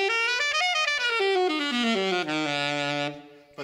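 An augmented scale played note by note from the leading tone, single pitched tones stepping steadily downward one after another, clear and close with a sustained final note, no talking.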